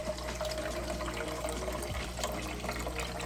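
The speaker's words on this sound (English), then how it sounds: "I'm gonna pour the rest of the water in." Water pours steadily into a small Betta fish tank, a continuous splashing, gurgling flow from start to finish with no voices.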